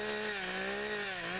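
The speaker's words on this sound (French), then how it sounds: "la sculpture à la tronçonneuse, c'est rapide, on taille dans des grandes masses de bois" Chainsaw carving a large wooden sculpture, a steady droning engine whine with a slight pitch dip as the blade bites the wood, fairly quiet and continuous.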